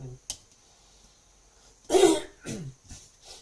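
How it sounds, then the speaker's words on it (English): A person clears their throat with a couple of rough, forceful bursts close to the microphone, separated by brief pauses in otherwise quiet surroundings. "Clear my throat here."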